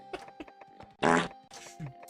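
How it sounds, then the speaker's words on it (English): A short flatulent burst sounds in the middle of scattered soft, breathy noises, brief and fairly close during a casual gaming session. "Fart."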